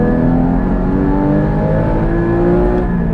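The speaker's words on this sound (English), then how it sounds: "for a stock exhaust system to sound this good" A car with a stock exhaust, probably a Porsche Cayman GT4, drones loudly and steadily from close by, a continuous low exhaust rumble with rising tonal whine, no voices.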